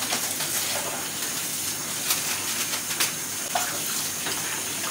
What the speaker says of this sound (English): So now we're gonna rinse this bowl out.